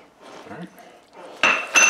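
Stuffed shells and marinara with chopped basil stirred in a pan, a utensil scraping and clinking against the metal in short bursts, louder clanks near the end, close and alone without talk.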